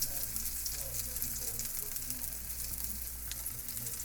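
Food sizzles steadily in a frying pan that is not iron and is cooling down, a continuous bright crackle with faint background hum and no talking.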